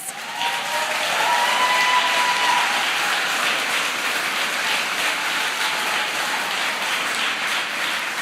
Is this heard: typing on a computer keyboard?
no